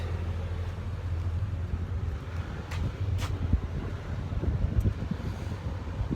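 Wind blows steadily outdoors on a cold, breezy day, a continuous low rumble with gusty buffeting against the microphone and faint distant hiss.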